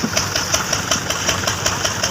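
A tractor engine chugs with a steady, rapid knocking rhythm, close by and loud, with no talking.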